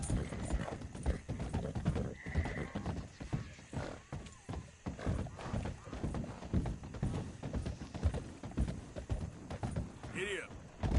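Hooves of a horse galloping in Red Dead Redemption, a rapid rhythmic clip-clop running through, with a whinny near the end and a voice calling out over the hoofbeats.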